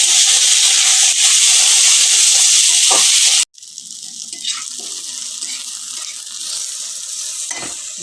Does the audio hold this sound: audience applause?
no